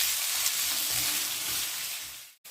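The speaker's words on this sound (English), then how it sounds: "on a low medium heat, we need to brown these onions" Onions brown in a pan over low-medium heat, giving a steady, close hiss and sizzle with faint soft stirring bumps underneath, cut briefly near the end.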